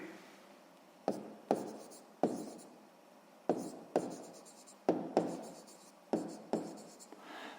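A pen writes out a sixth-grade maths solution in a run of short, scratchy strokes that come in quick pairs with brief pauses between, close and fairly quiet.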